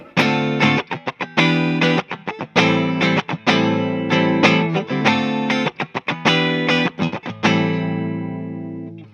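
A clean 2019 Fender American Ultra Jazzmaster electric guitar on its neck pickup plays a strummed chord pattern with rhythmic pauses, warm and full, ringing out at the end.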